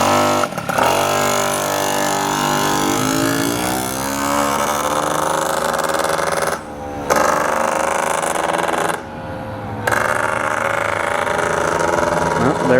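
A Malossi water-cooled Hobbit moped engine revs loudly and close, its buzzing drone rising and falling in pitch with two brief dips in power as the rider pulls away.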